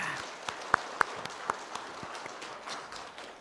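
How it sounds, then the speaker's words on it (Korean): Scattered, fairly faint clapping from a church congregation for the choir, a few sharp individual claps standing out before the sound thins and fades. "우리 한번 큰 박수로 격려해 주시면 좋겠습니다"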